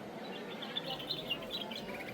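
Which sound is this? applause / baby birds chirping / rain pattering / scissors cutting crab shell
baby birds chirping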